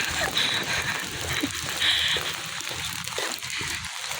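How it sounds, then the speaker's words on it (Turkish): Steady rain patters and hisses all around, a dense wet wash of drops with no clear gaps, fairly close. "Çok da güzel yağıyor yağmur"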